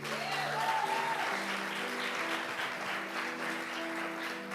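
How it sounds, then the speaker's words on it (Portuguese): A church congregation claps together, a continuous moderately loud patter of many hands, with a faint tonal hum and a brief sliding tone early on beneath it. "Você pode aplaudir?"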